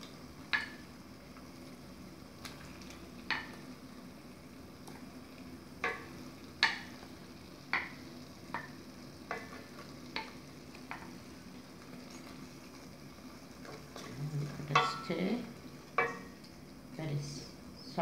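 Fish fries with masala in a pan, with a steady low sizzle broken by sharp pops and spits, and utensils scraping and clattering near the end.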